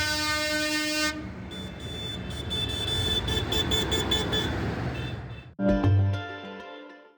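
Long, loud horn blasts from protesting livestock farmers, a steady sustained honk that breaks off briefly before a second, shorter burst near the end, with no talk over it.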